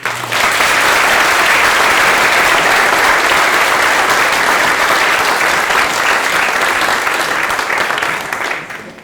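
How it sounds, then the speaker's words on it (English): Sustained applause from a large crowd at a graduation ceremony, loud and steady for several seconds before tapering off at the end. "Let's give these guys one last applause."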